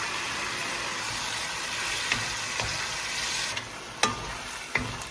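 Beef and shrimp sizzle in a pan over high heat with a steady, dense frying hiss, broken by a few sharp clacks of a utensil against the pan.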